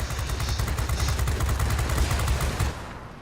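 Sustained rapid machine gun fire from a Bf 110 heavy fighter attacking bombers in a flight combat game, loud and continuous for about three seconds before cutting off.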